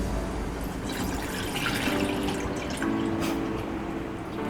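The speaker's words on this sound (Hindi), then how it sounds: "सबसे पहले हम एक सॉसपैन लेंगे और इसमें अब हम 2 कप दूध डालेंगे" Milk is poured into a saucepan in a steady, continuous liquid stream with a soft splashing fill, heard close and alone.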